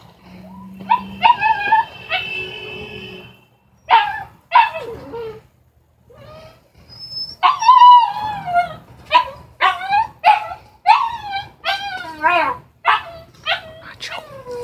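A puppy named Nacho whimpers and yips in high, wavering cries, then breaks into repeated short barks, close by, with a voice talking and cooing between the sounds.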